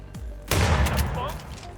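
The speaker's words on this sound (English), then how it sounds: "We've got reports of gunshots fired." Gunfire in the Hitman Freelancer video game: a short, dense burst of loud, close shots in rapid succession that merges into a roaring wash, with speech-like sound mixed in beneath it.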